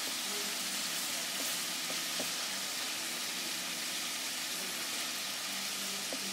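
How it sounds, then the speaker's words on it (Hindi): Chicken tikka boti pieces fry in a pan with a steady, dense sizzle that runs throughout, broken by a few faint utensil taps, with no voices over it. "हमारा चिकन टिक्का बोटी बहुत ही कमाल का फ्राई हो गया है, ब्राउन हो गया है"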